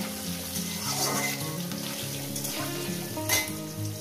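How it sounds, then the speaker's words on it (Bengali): Potato pieces sizzle steadily in hot oil in a pan while cooking a fish-head and potato ghonto, a continuous close crackle with a musical backing underneath throughout. "আলুটাকে সুন্দর করে আমি একটু ভেজে নেব।"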